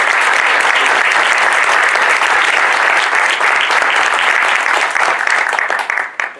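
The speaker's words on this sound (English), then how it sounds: "Give a round of applause," Audience applause fills a selectman's candidate debate in Billerica, a dense, steady wash of many hands clapping close by for about six seconds before thinning out at the end.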